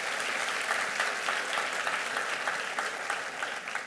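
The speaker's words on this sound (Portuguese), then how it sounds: "pode aplaudir a Jesus mesmo" Steady applause from a church audience fills the whole stretch, many hands clapping at once in a dense, even patter, moderately distant and unbroken.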